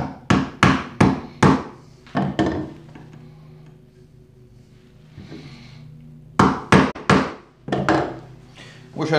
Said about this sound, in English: Just kind of set it in place and whack it with a hammer.